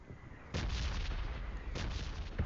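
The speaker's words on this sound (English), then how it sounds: "Those bombs blowing up." Bombs exploding in a video game, two loud broadband blasts about a second apart, each followed by a rumbling decay over ongoing low background noise.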